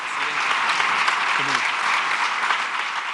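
Sustained applause from an audience at the signing of the amended trade agreement between Mexico, the United States and Canada, dense, steady clapping filling the room with a brief voice rising above it.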